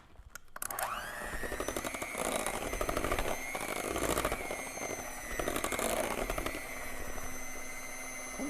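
An electric hand mixer beats blueberry muffin batter in a bowl, whirring loudly and steadily with a rattling, clattering edge as the beaters knock against the sides, running continuously for several seconds.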